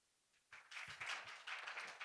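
An audience at an AI summit breaks into applause to welcome a speaker, starting suddenly after a brief quiet and continuing as a full, even round of clapping from many hands.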